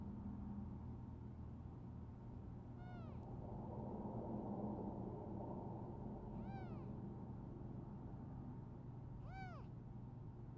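A cat gives three separate meows, evenly spaced several seconds apart, each a rising-then-falling cry over a steady low background hum, moderately faint and with no talk.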